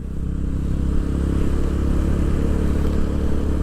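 Motorcycle cruising steadily in fourth gear on a beach ride, a loud continuous engine drone with wind rumble and no shifts.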